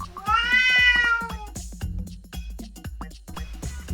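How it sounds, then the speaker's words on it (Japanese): A cat meows in a long rising-and-falling call near the start, followed by a busy run of clicks and knocks from toy play without any further meowing. "猫"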